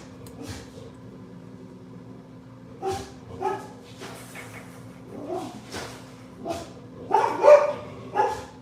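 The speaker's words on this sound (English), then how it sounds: "There must be a dog or something." A dog barks several times in the background of a quiet indoor room, with short yips spread over the span at moderate distance, growing a bit louder toward the end.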